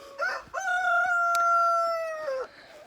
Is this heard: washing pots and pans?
no